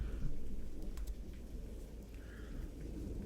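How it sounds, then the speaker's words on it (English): Thunder rumbles low and continuous beneath steady rain hiss during a thunderstorm, faint and distant-sounding, with a few soft crackles and no voices. "I'm so sorry that you have to listen to freaking thunder and rain through this crap."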